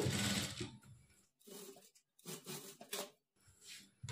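A sewing machine top-stitches the folded-in neck edge of a work blouse. It runs close and fairly quiet in several short bursts of rapid stitching with brief pauses between them.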